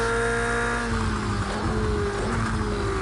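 A race car in Project Cars 2, on the Donington circuit in a long endurance race, holds a steady, loud engine drone with no talk, its pitch wavering and dipping slightly between gear changes.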